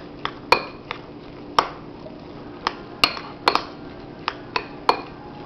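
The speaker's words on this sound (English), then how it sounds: "And then you just mix it up." A spoon stirs food in a bowl for the kids, producing a dozen or so sharp, close clinks and taps at an irregular pace over a quiet background.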